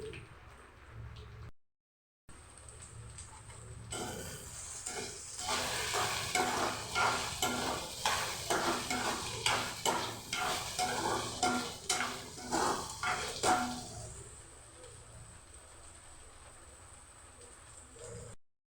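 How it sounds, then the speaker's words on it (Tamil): Okra sautéing in a little oil over a low flame, a steady soft sizzle with repeated scraping stirs and light utensil knocks against the pan through the middle, easing back to a quieter sizzle. "எண்ணெய் லைட்டாக கொஞ்சம் தேவையான ஊற்றி வெண்டைக்காய் தான் கொஞ்சம் நேரம் ஒரு 10 நிமிஷம் வதக்கிடுவோம்"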